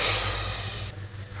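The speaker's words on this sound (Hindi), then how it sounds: "ये तड़का डाल देंगे कढ़ी में," A hot tadka of red chilli, fenugreek seeds, cumin and hing poured into kadhi gives a loud, bright sizzling hiss that cuts off abruptly after about a second.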